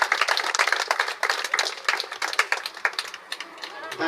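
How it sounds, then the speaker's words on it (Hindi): Applause rings out at a village award ceremony, close, fairly dense clapping that is sustained at first and then thins into scattered claps toward the end. "जोरदार तालियां।"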